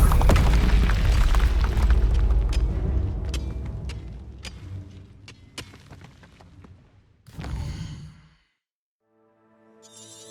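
A Confringo blasting spell explodes in Hogwarts Legacy with a loud booming burst and crackling debris. The blast fades into rumble, then a short second burst, silence and faint game sounds.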